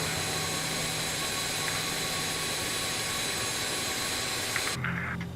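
Jet airliner engines of an RJ regional jet in Microsoft Flight Simulator 2020 run with a steady, loud whine and roar, idling after landing at the airport, holding evenly throughout before the tone shifts just before the end.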